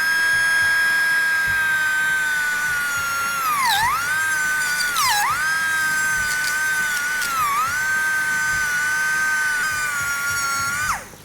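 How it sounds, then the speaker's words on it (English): A high-pitched surgical drill whines steadily for several seconds, dipping in pitch a few times as it bites into a miniature dachshund's wrist bone, then stops abruptly. "I'm drilling out the joints that form the wrist below the main moving part of the wrist."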